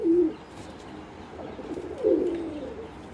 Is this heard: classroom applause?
no